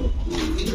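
A pigeon gives a short, low throaty coo, close and fairly loud, among fancy pigeons kept for sale.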